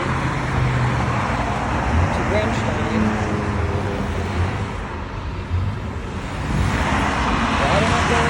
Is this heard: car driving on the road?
yes